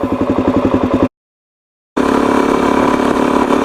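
A motorcycle engine idles low and rough at close range with a steady throb, cuts out completely for about a second, then resumes at a slightly smoother idle; no speech.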